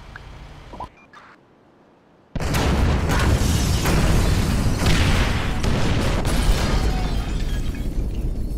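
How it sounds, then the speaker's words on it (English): Incendiary charges detonating in GTA 5 on Xbox Series X, a sudden loud boom after a brief quiet that gives way to a sustained roaring, crackling blaze filling the rest of the clip. "Detonate the incendiaries, Frank."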